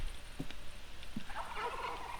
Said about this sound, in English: And got some turkeys.